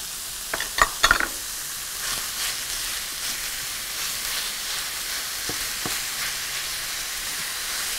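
Meat fries in a pan with butter and onions, a steady close sizzle and hiss, with a few sharp clinks and scrapes of stirring early on and softer taps later.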